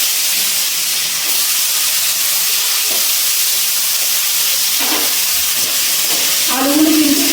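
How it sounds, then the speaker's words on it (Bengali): Diced potatoes coated in salt and turmeric sizzle in hot oil over a low-to-medium gas flame, a steady bright hiss of frying with a few brief scraping stirs near the end. "এবার এই গরম তেলের মধ্যে ছোটো ছোটো করে কেটে রাখা নুন হলুদ মাখিয়ে রাখা আলুগুলো ভেজে নিচ্ছি"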